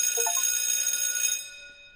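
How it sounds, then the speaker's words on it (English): A school bell in the video game Tiny Bunny rings in a bright, sustained electronic tone, clear and alone, for about a second and a half before it cuts and decays away. "The bell rang."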